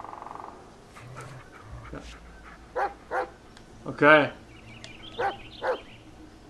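A dog in the game Blair Witch lets out several short barks and yips spaced a second or so apart, near and clear, while someone speaks briefly in between.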